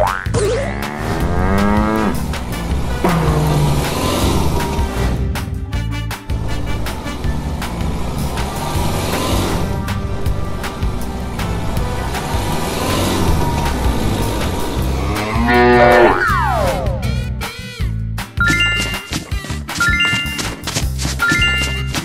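A cartoon cow moos amid a busy children's animation soundtrack of music and effects, the lowing blending into bright, continuous background sounds at steady loudness.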